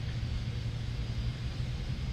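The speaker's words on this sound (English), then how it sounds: "It's engine number 2 coming online." An engine of a JARDesign A320 airliner spooling up in the X-Plane 10 flight simulator, a steady low rumble with a faint high whine holding throughout, loud and continuous with no talk.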